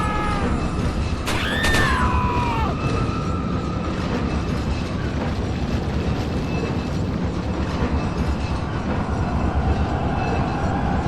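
A train rumbles and clatters steadily in the video game Resident Evil 4, with a brief metallic wheel squeal near the start, loud and continuous as if riding aboard.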